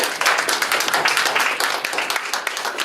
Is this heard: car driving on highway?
no